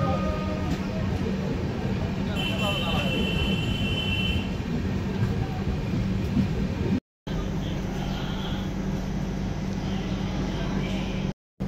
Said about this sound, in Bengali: ট্রেন ছাড়লো কাঁথি স্টেশন 5:38 ঘড়িতে